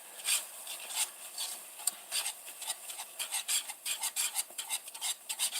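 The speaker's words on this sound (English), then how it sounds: "I waited too long in the middle of stirring it" A spoon stirring fudge mixture of roasted sugar in a pot, quick rhythmic scraping strokes close by, a steady run of rasping swishes.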